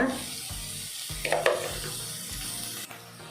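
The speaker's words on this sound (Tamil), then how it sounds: "வெங்காயம் நல்லா ஃப்ரை ஆகட்டும்." Onions frying in a pan with salt for bread upma, a steady broadband sizzle with a few scraping stirs of a spoon, close and continuous with no talking.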